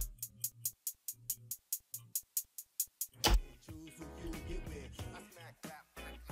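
Programmed FL Studio hi-hats with randomized velocities tick in a quick steady pattern of bright hits that vary in loudness, then a fuller drum and instrument mix joins in.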